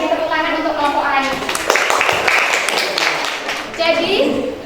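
A classroom of schoolchildren applauds the orange group, a steady wash of clapping that runs throughout, with a teacher and children's voices talking over it.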